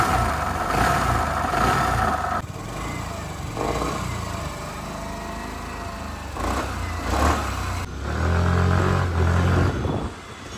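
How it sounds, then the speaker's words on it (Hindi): A repaired Suzuki Access 125 BS6 scooter engine idles steadily at close range, a smooth mid-pitched hum with small shifts in tone and a brief rise near the end. "तो इंजन का साउंड सिर्फ आप सुन सकते हो गाइस"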